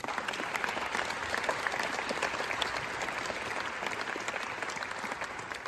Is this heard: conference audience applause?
yes